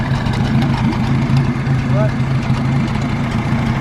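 A tractor engine idles with a steady low rumble while a bush hog mower is attached, close by and loud throughout. A brief spoken word is heard over it.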